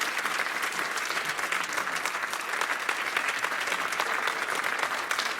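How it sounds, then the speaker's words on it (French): A crowd applauds loudly and evenly throughout at a local event attended by the mayor, a dense continuous patter of clapping hands with no voices on top. "Donc je vous demande juste d'applaudir fort"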